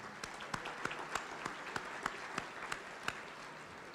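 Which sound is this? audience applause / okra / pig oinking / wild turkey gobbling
audience applause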